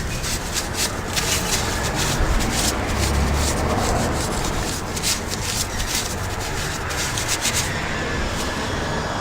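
A rag wipes excess gear oil off a vehicle differential around its 1 1/8-inch plug, giving a steady close-up rubbing and scrubbing that runs continuously through the whole stretch, with no talking.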